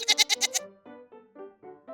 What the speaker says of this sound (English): I think this goat is laughing.